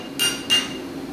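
A hammer strikes a hole punch driven into hot steel, two close, loud metallic blows about a third of a second apart, each with a short bright ring, over quiet workshop background.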